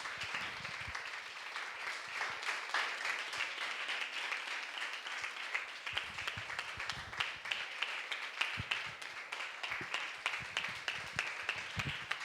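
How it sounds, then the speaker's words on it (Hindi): An audience at a church service applauds a pastor with sustained clapping from many hands, steady and moderately distant, going on for the whole stretch with no talk over it. "जोरदार टाळ्या वाजून त्यांचं स्वागत करू"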